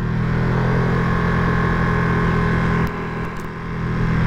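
A 2023 Ducati Panigale V2 motorcycle is ridden at speed with a loud, steady engine drone and wind roar. The engine briefly dips as the throttle eases off, then climbs again.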